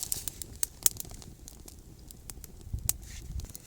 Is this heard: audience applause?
no